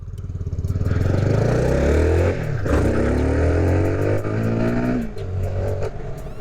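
A 2024 CFMoto 300SR sport motorcycle accelerates hard, its engine note climbing through the revs with brief dips at gear changes, close and loud.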